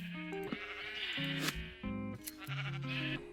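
Minecraft sheep, including a pink one, bleat repeatedly in quick overlapping calls, close and clear with a wavering pitch, with no talking.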